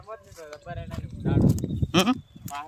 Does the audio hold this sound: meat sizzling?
no